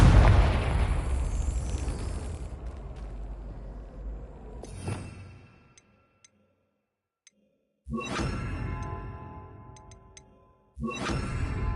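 Heavy bursts from the Confringo blasting spell in Hogwarts Legacy: a loud roaring blast fades out, a sharp crack follows near five seconds, then two more loud explosive bursts come after a short silence, with no talking.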